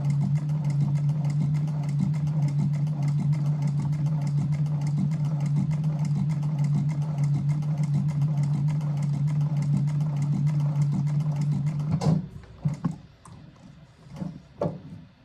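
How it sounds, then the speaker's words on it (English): A machine's motor runs at its second speed: a steady, low, even hum that holds for about twelve seconds, then cuts off, followed by a few scattered clicks and knocks. "this is speed number 2 for the machine, or for the motor."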